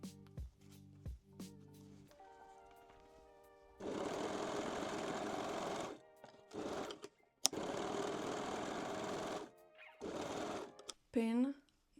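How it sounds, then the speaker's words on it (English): A sewing machine stitches the side seams of lingerie panties in a few bursts of whirring, each lasting a couple of seconds and separated by pauses, with a short speaking voice at the start and another near the end. "And pin and sew both side seams."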